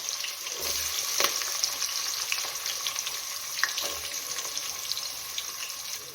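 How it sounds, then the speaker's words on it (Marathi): Sliced onion fries in oil with whole spices like cinnamon and cloves, a dense, even crackle close by, broken by occasional scrapes and taps as it is stirred around the pan. "कांदा टाकून घेतलेला आहे फिरवून घेऊ कांदा थोडासा फ्राय करून घेऊया"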